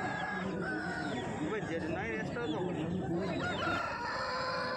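An Aseel rooster at a rural village livestock market crows loudly and close, its drawn-out call rising over a busy background of crowd chatter and other poultry noise.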